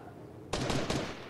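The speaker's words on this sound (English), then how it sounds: "I hear gunshots." Burst of rapid gunfire in the Fortnite video game, a quick sharp volley of several shots firing off in close succession, fairly loud and alone with no talking.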